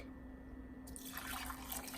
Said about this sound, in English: we're gonna get the water to be poured